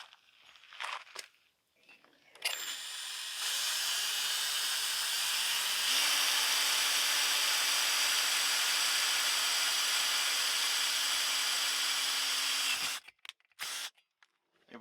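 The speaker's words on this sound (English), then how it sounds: "right here and go ahead and drill." A power drill bores into wood while fitting Z brackets and bolts in a camper van conversion, a steady close whine of about ten seconds with a slight pitch rise partway, framed by brief handling clatter before and after.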